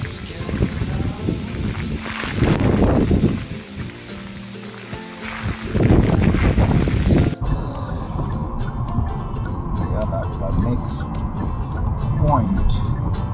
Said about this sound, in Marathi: खूपच जोराचा वारा आहे महाबळेश्वरमध्ये.